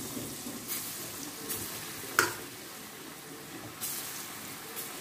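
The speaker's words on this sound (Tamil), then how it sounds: "இது கொஞ்சம் சின்ன சின்னதாக போட்டு பொறிச்சு எடுத்துக்கலாம்" Small pieces of dough for kozhukattai fry quietly in moderately hot oil, a faint continuous sizzle broken by a few soft clinks and one sharp tap.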